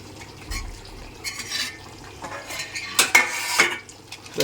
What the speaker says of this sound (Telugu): కొత్తిమీర వేసి కలుపుకొని దించితే అయిపోద్ది కూర